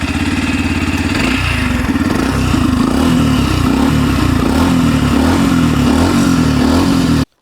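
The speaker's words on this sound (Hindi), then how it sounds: "ये इतना अच्छा साइलेंसर, इसका आवाज सुननी है, अभी सुननी है" Yamaha FZ-S FI V4 motorcycle, 2024 model, exhaust running steadily close by, a low throbbing idle with light rises in revs throughout, loud and continuous with no talking.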